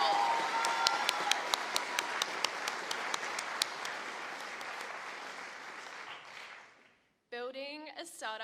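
At a university startup showcase, an audience gives a sustained round of applause with a few sharp individual claps standing out. The clapping fades away and a voice begins speaking near the end.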